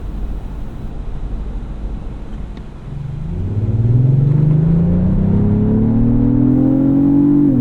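A 2025 Lexus GX 550 Overtrail+ engine pulls hard under full throttle, a loud, near rumble that swells into a rising, steady growl as revs climb, with no talking over it.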